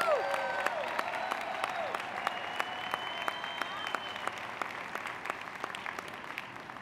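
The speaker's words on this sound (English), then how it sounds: "Give her a round of applause." A convention audience applauds a union speaker, steady clapping with distinct individual claps popping out, some cheering voices over the first few seconds, moderately far and sustained throughout.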